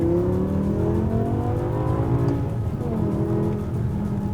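A BMW M5 E60 with its V10 engine roars loudly and close as the car slides under wheelspin, the engine note rising and falling briefly with a fluttering tire hiss.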